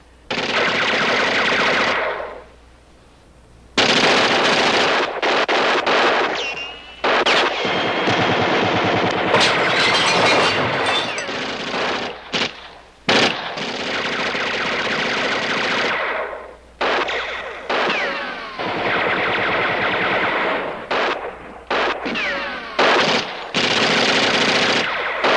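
Heavy gunfire from a war television drama rattles in long sustained machine-gun bursts and sharp single shots, loud and near, with brief pauses between volleys.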